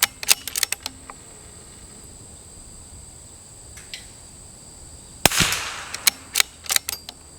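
Sharp .22 rifle shots from a CZ457 with a 26-inch Lilja barrel firing Eley ammunition at a range: several crisp cracks early, a louder report with a decaying tail near the middle, then more scattered clicks and cracks.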